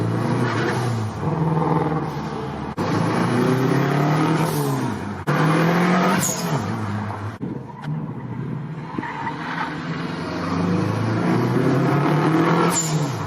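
A Peugeot with a stroked flat-four engine drives hard, its raspy engine revving up and down through repeated gear changes, with tire squeal and skidding, loud and close throughout.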